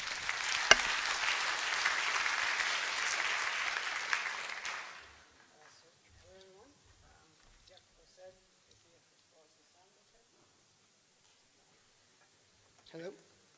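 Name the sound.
round of applause for the speaker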